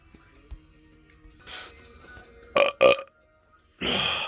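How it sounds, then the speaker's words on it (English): A man forces out burps on command: a couple of short, close, throaty eructations in quick succession followed by a longer, louder burp after a few quiet puffs. "I'm trying to burp on command."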